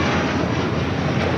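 Airliner at LAX bound for Tokyo Haneda, a loud, close, continuous engine roar filling a brief moment without talk.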